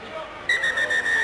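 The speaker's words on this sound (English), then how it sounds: "Is that the half-time whistle?" A referee's sharp whistle ends the first half of a Fiji vs England rugby sevens quarter-final in Scotland in 2014, one sustained blast with short breaks over a crowd murmuring in a stadium.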